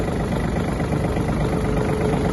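A Yanmar AF-226 Japanese mini tractor with its engine running steadily, a continuous close mechanical drone and rumble with no talk over it.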